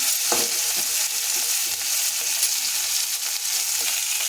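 Tomatoes fry in a hot pan with a loud, continuous sizzle and crackle, broken by a few faint stirring scrapes.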